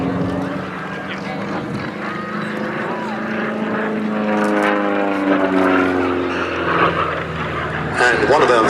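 A P-47 fighter plane flies a spirited display at the Duxford Battle of Britain Airshow, its piston engine droning and shifting pitch as it passes, while a commentator talks over it.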